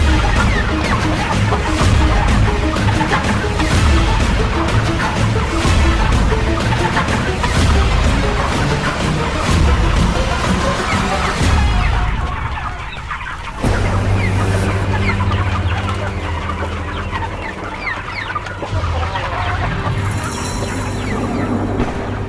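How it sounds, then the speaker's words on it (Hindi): Hens clucking loudly and continuously nearby, a busy flock with overlapping clucks and squawks, then a quieter stretch with scattered clucking and a low rumble of background noise. "अरे मेरी मुर्गियों को पकड़ो!"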